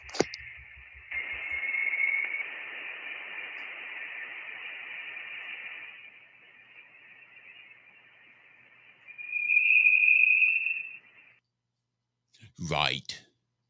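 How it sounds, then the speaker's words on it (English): A Voyager recording of interstellar space: an eerie, steady electronic tone hums with a faint hiss beneath it, then swells into a brighter whine before a short burst of static at the end. "Voyager, interstellar space noises, just for you."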